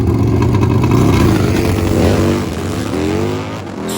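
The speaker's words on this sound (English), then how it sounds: "Spins a little bit with a wheelie." A nitrous drag-racing motorcycle, a Road King, launching on a hot drag strip with wheel spin and a wheelie, a loud continuous roaring engine close by that fades slightly as the bike pulls away.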